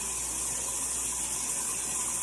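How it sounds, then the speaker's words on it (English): Cold tap water runs steadily into a sink while hands are rubbed with soap, a faint, even hiss of flowing water without speech. "I'm just going to start rubbing the soap with cold water on my hands."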